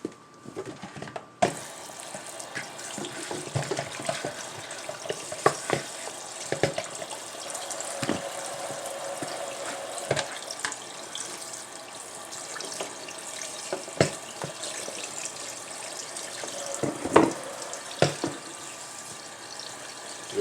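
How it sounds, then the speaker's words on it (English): Tap water runs steadily into a kitchen sink as smoked turkey wings are rinsed and rubbed clean, with splashing and scattered knocks of the meat against the basin throughout. "What I'm going to do is just rinse them off. Give them a good cleaning."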